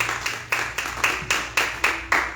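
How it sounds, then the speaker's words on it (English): A church congregation clapping hands together in worship, loud, even rhythmic claps repeating about twice a second over a low held musical drone. "Clap your hands for Jesus."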